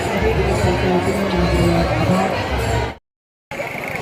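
Crowd at a Datta temple fair in Akalapur held for Datta Jayanti, a dense steady babble of many voices close around, broken by a half-second of silence before the hubbub resumes.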